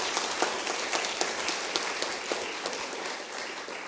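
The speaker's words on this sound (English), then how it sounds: "And a round of applause for our keynotes" An audience at a health psychology conference applauds its keynote speakers, giving dense, steady clapping at moderate volume. A few sharper claps stand out near the front, and the applause carries on evenly without any speech.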